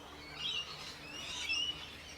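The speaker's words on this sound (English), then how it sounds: "Oh no, a noisy cockatoo." A cockatoo gives a couple of faint, scratchy squawking calls, thin and distant, over a quiet background.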